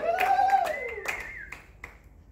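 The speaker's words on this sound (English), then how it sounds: "Give the applause" Sparse clapping from a church audience welcoming a guest speaker, a few distinct hand claps scattered over a sustained, gliding tonal sound that fades out, fairly quiet overall.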